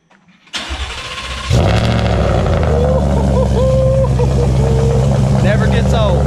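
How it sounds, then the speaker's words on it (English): A supercharged Ford F150 engine cold-starts with a short crank, then catches and settles into a loud, rough high idle that holds steady and close. "All right, cold start time."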